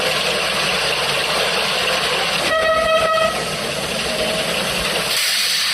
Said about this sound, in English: A stout black diesel sauntered into the yard.